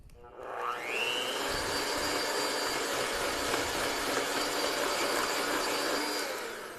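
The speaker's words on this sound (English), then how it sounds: "Back to blending, probably another minute or so." An electric mixer beating butter for Christmas cookie dough spins up with a rising whine, then holds a steady, loud, close whirring drone for several seconds, with no talking.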